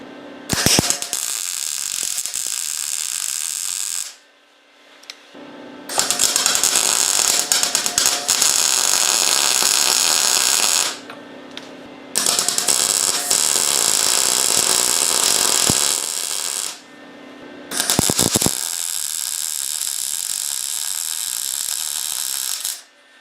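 Welding on a custom gas-powered tricycle frame, four long, loud, steady crackling buzzes of several seconds each, separated by short quiet gaps with faint background hum.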